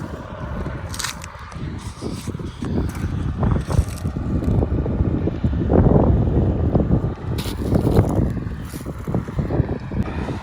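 Wind buffeting a microphone outdoors in a field beside farm work, a loud, gusty rumble with irregular thumps and flutters that swell and fade over several seconds.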